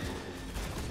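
Sustained gunfire in the Star Wars Jedi: Fallen Order video game, a dense continuous wash of blaster-like shots lasting the whole second, steady and fairly loud with no talk.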